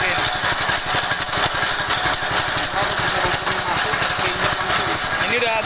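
Engine of a chopper cutting machine running at full throttle, a loud, steady, rapidly pulsing mechanical drone that continues unbroken, with a voice briefly audible over it.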